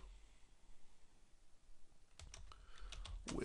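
Computer keyboard typing on a desktop setup, a short run of quick, irregular key clicks starting partway through and growing louder near the end, with no talking.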